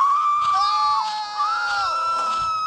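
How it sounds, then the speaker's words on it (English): People scream during a crocodile attack in a game, a loud, shrill, wavering cry that holds almost continuously with a brief dip partway through. "So yeah, they scream a lot."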